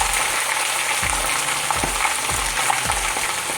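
Pork pieces for Haitian griot fry steadily in a pan, a continuous close sizzle broken by several soft low thumps as the meat is moved or stirred.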